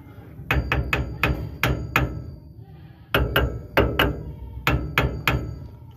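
Repeated metal hammer blows loosening the differential housing of an Isuzu Traga, close and loud, in two bursts of sharp ringing strikes with a short pause between them.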